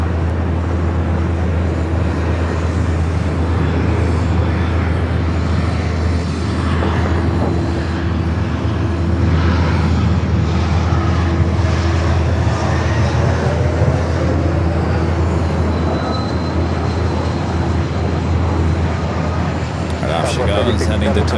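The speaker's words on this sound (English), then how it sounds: "So the American flight heading to Tokyo Haneda taking off on the south side" An American Airlines jet bound for Tokyo Haneda roars steadily on takeoff from the south side at LAX, a continuous heavy engine rumble heard from a distance, with a voice talking over it.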